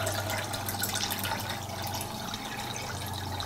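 Saltwater taken from a reef tank is poured into a small pico reef bowl, giving a steady, close hiss of running water that continues without a break.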